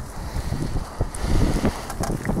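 Icy wind buffets the microphone in gusty low rumbles, loud and close, with water sloshing faintly beneath, amid rain and sleet.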